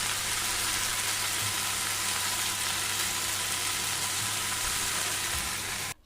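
Salted vegetables with ginger and garlic are stir-fried in a pan over medium heat without water for a village-style prawn chorchori, producing a loud, even, continuous sizzle that stops abruptly at the end, with no talking.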